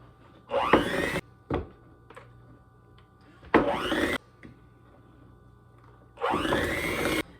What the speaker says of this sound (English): now we're going to take our dry ingredients and mix them in slowly